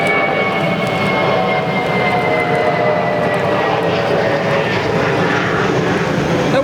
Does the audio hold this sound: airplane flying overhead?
yes